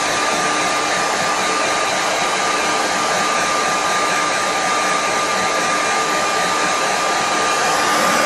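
A hair dryer blows on wet watercolour paint, giving a loud, steady, close whirring roar that runs unbroken throughout with no other sounds.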